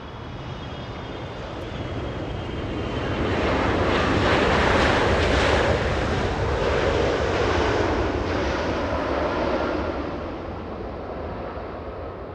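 An airliner rolls on the runway at Los Angeles International Airport, a broad roaring rush of engine noise that swells to a peak midway and slowly fades, heard from a distance with wind buffeting the microphone.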